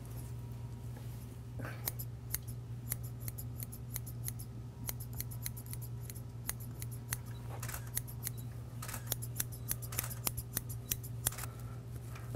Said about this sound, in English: you cut a piece of paper out and put a big U shape on it